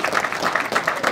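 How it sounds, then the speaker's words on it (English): Brief burst of dense applause from the crowd at a UCMMA press conference, steady clapping for about a second without clear voices. "A massive round of applause"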